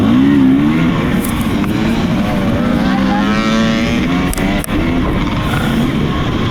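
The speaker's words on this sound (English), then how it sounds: "I could hear him revving up, so I let him go" An off-road rally car on a steep switchback stage revs hard and passes by, a loud, continuous engine note that climbs in pitch, close by and alone.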